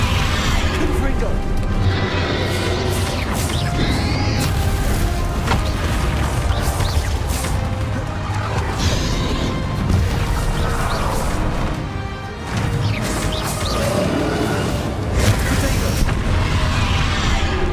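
A Confringo blasting spell explodes in the Hogwarts Legacy video game as loud, dense booms and crashing impacts against a constant layer of battle noise. Voices are heard through the din.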